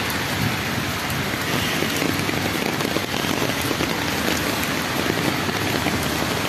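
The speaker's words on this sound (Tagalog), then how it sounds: "Grabe yung lakas ng ulan." Heavy rain pours down in Dubai, United Arab Emirates, a dense, steady hiss of drops hitting surfaces that fills the whole clip at an even, loud level with no breaks.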